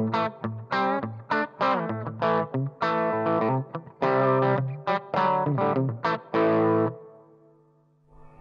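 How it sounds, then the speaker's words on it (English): Electric guitar played through a Marshall Haze 15 amplifier with its reverb set to half, a series of plucked distorted notes and chords in an uneven phrase, ending on a sustained note whose reverb tail rings out and fades. "this is with the reverb on half"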